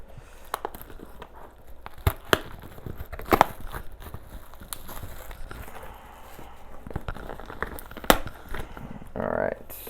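Packing tape crinkles and tears as a heavily taped mail box is opened, giving scattered sharp rips, rustles and crunches of cardboard at close range, with faint talk in places.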